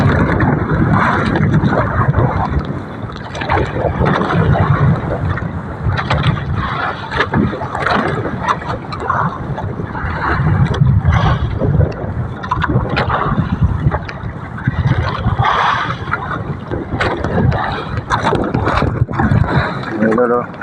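Steady wind gusts roar against the microphone over choppy sea on a boat, with people talking underneath the whole time.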